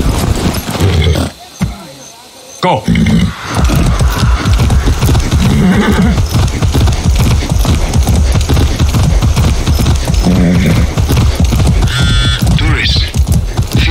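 Hooves clip-clop in a quick steady rhythm in Far Cry 6, mixed with snorts and neighing and game noise, while people talk over much of it.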